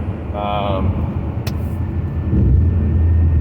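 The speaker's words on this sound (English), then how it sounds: "We're driving here. It's a highway." A car cruises along a highway, its steady low engine and road rumble running throughout and swelling slightly toward the end, with a brief high chirp partway through.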